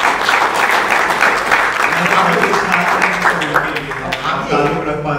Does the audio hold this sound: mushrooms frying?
no